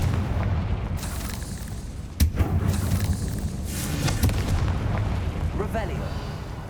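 Fire-blasting spell erupting in Hogwarts Legacy, a sharp loud crack followed by booming, rumbling explosions over continuous game ambience.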